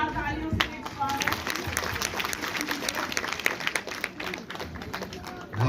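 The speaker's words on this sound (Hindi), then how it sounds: "उद्बोधन के लिए जोरदार तालियों से स्वागत" Audience applause after a speech at a Hindi public gathering, steady crowded clapping throughout with voices mixed in underneath.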